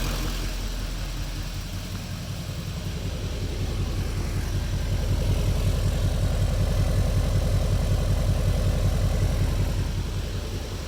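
An LML Duramax diesel pickup truck idling with a mild setup and 4-inch exhaust, a loud, close, steady low rumble with a rapid even diesel knock throughout, no voices.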